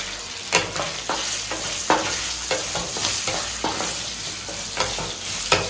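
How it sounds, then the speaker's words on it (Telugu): Spices, asafoetida and dried red chilies crackle and sizzle loudly in hot oil for raw mango dal, with regular scraping taps of a spoon stirring the pan. "గోల్డెన్ కలర్ వచ్చినంత వరకు మనం ఈ పోపుని కలుపుకోవాలి"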